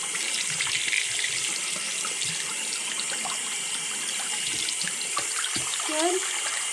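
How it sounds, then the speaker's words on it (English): A tap runs steadily into a bath being filled for ferrets, giving a continuous, close, even rushing hiss of water that holds the same loudness throughout, with a few faint brief tonal clinks near the end. "Making my bath. Okay, I probably should make sure to get the right temperature for everything."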